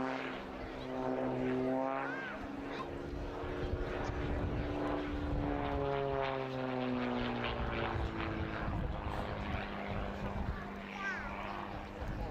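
A 300-horsepower propeller aerobatic plane performs at a D-Day airshow, its droning engine rising and falling in pitch as it passes overhead at a distance, with people talking in the crowd throughout.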